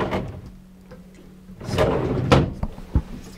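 A drawer under a seat in a 2023 Kabe Imperial 1000 caravan slides open and shut, giving sliding rumbles and a couple of firm knocks close to the microphone.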